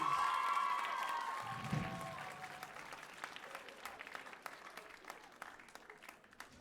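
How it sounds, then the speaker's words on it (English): An audience at a Rotorua concert claps steadily, a warm wash of applause that gradually fades, with a few scattered cheers mixed in. "Let's give them one more round of applause."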